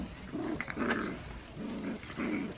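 Dogs growling while biting each other in play-fighting, a series of low rumbling growls in about four bursts with short snarls between, fairly close and moderately loud, no talk.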